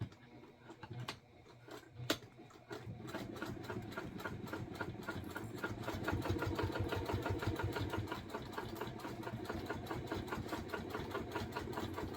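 Quiet, close sewing machine stitching a 1/4 inch seam on a fabric bag, a quick steady run of ticking stitches after a couple of sharp clicks, with no talking.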